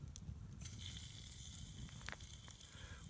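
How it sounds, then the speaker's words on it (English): Chops searing in melted shortening in a cast iron pan: a steady, close sizzle with crackling pops and faint occasional clicks throughout. "Now let's start browning the chops."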